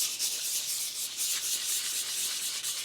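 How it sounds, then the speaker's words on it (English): Glazed clutch of a Polaris Sportsman 400 ATV being sanded by hand with 220 grit sandpaper in circular motions, a continuous close, even rubbing scrape without pause. "I'll just take some sandpaper. This is 220 grit. And I'll just sand it off."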